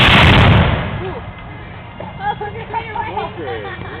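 A matchlock musket fires at a historical demonstration: one loud, booming blast at the start that rolls away over a second, followed by murmuring voices of people nearby.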